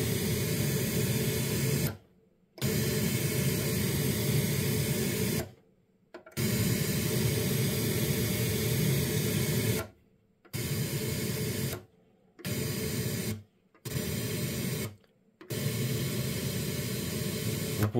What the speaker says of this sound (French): un signal de bruit rose qui est identique sur tous les canaux